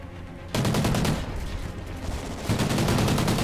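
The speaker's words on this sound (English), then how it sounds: "I put bullets into the wall." Rapid automatic gunfire from a video game bursts in after a short quiet moment and keeps rattling steadily and loudly to the end, with a heavier surge near the close.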